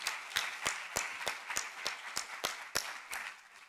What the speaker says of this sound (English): can we have just one last round of applause for all of the startups that have presented today?